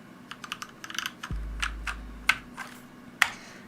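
Keys tap on an upgraded computer keyboard in a quiet room, giving a run of close, crisp clicks in an uneven rhythm with two sharper, louder strikes near the end.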